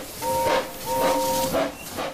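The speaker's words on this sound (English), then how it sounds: "The engines' fires had been lit, and they were making steam ready for their journey." Steady steam hiss from a steam locomotive in a Trainz video game, with soft whistle-like tones rising and falling in a few waves, fairly close and continuous, with no voices.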